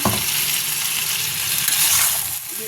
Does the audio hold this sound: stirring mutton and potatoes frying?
yes